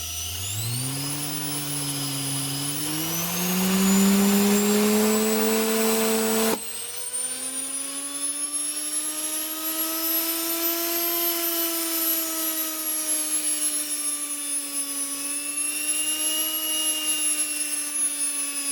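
A washing machine motor wired up for homemade tools runs on a speed controller, its steady whine ramping upward in pitch, then cutting to a sustained high-pitched spin near full speed, loud and close with no talking.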